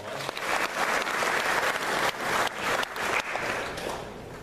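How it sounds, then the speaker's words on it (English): An audience at a congressional district candidate debate breaks into applause, a full, steady burst of clapping that swells and dips slightly over several seconds without speech. "Please give them a round of applause."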